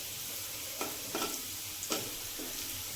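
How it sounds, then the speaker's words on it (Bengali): Potatoes frying in a home kitchen pan, a steady soft sizzle broken by four short bursts of stirring or spatula scrapes, heard close with no voices. "এবার আমার আলু ভাজাটা হচ্ছে"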